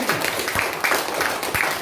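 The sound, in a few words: congregation clapping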